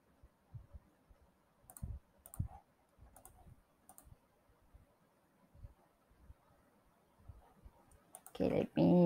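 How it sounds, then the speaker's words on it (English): Scattered clicks of typing on a computer keyboard come in short irregular bursts at close range, fairly quiet, ending with a louder burst of noise. "let me type the value now"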